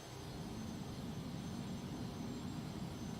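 Steady, even roar of Cessna T-37B twin jet engines throttled up in flight, a continuous broadband drone with no talk over it.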